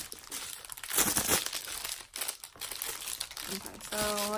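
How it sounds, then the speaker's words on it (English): Plastic wrapping is peeled off a newly unboxed luxury-style purse, with loud close crinkling and rustling in bursts and a brief tearing sound, while someone talks over it. "let's take this plastic off"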